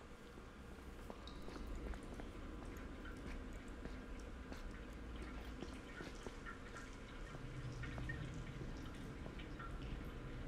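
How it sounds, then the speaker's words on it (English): Water drips onto metal in a dim, quiet horror-game setting from The Casting of Frank Stone, with faint, irregular ticking drops scattered over a low ambient hum. "the water on metal sounds"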